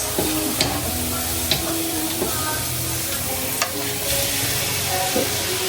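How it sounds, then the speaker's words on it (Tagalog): Garlic and onion sauté in a pan at a bus-terminal birthday cookout, giving a steady close sizzle with occasional clinks and scrapes of a utensil, while faint background voices and noise sit beneath. "Nagigisa na po siya ng bawang at sibuyas."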